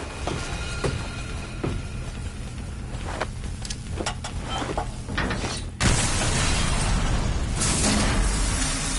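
A grenade goes off in the Call of Duty Black Ops 3 campaign: after a stretch of clattering combat noise, a sudden broad blast erupts and leaves a loud, sustained roar.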